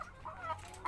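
Laying hens clucking in a bamboo coop in a cool upland village, with a few short, close calls standing out over a steady low farmyard murmur.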